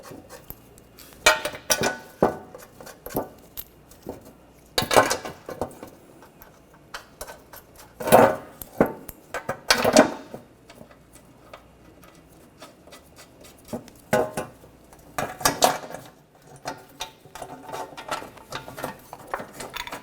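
Bolts being run in and tightened on the front suspension of a 2009-2013 BMW 328i xDrive during a passenger CV axle replacement, with repeated metallic ratcheting and clicking bursts over a busy workshop background, no talk.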